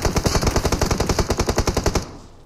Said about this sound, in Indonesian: bertahan dari serangan-serangan peluru dari berbagai arah